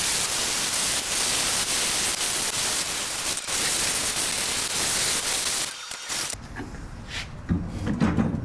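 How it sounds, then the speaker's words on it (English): Rotary tool grinding small plastic tabs off a power mirror gear from a GM truck, a loud, steady, hissing whir for several seconds that cuts off and gives way to quieter handling sounds. "we want to grind these little tabs off right here."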